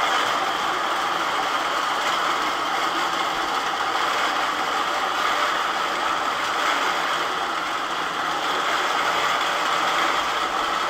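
A quilting machine's sew head stitches a meander pattern, giving a steady, continuous mechanical whir with fine rapid ticking that holds at an even level throughout, with no voices.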